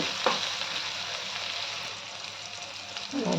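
Large-cut onions fry in a pan with a steady, dense sizzle that stays fairly loud throughout, with a brief stir and faint talk near the start and end.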